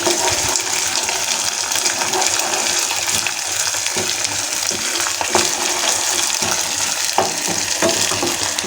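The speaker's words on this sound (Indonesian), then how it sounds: "setelah itu baru kita masukin lencahnya ya Bun. Kita aduk lagi." Leunca berries stirred into sambal frying in a pan give a loud, continuous sizzle and crackle, with intermittent scraping of a spatula through the mixture.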